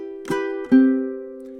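A ukulele plays two plucked notes from the melody of a song, the second ringing out and slowly fading, clear and close with no other sound.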